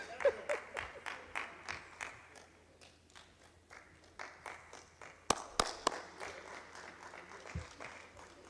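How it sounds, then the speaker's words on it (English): Sparse, rhythmic clapping from a small audience at a national dialogue on social protection, distinct individual claps with a few sharper, louder ones, faint and fairly close. "Let us give another big round of applause to really thank and appreciate us all."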